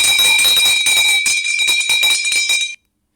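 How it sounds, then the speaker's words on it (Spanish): A small high-pitched bell rings rapidly and continuously with a shrill, piercing tone, close and loud, before stopping abruptly near the end. "Pero miren el sonido de esta campana."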